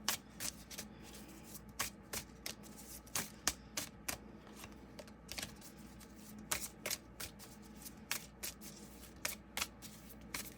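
Crisp, repeated riffling of a deck of cards, fast flicking bursts recurring steadily with no one speaking.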